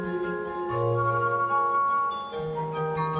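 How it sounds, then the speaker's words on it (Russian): Sustained, bell-like tones of glass played as a musical instrument on a competition stage, clear pure notes overlapping and shifting pitch with no accompaniment. "звучит вот стекло, больше ничего тут нет"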